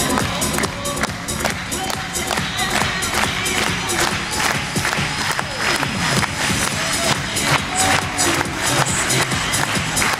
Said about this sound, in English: Just clap those hands to the beat